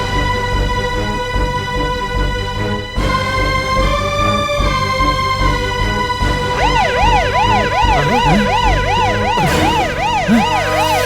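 A loud emergency siren, police or ambulance, wails in long rising and falling tones before switching to a fast, warbling yelp pattern. It plays close and continuously, with no voices.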